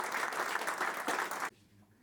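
Steady applause from an audience at a tourism medal award ceremony fills the room for a moment, then cuts off abruptly into quiet.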